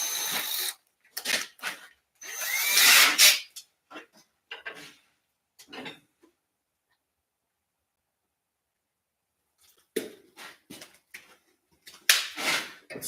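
A power drill bores into steering components in short, intermittent bursts, whirring and grinding close by, separated by a long silent pause before several more quick runs.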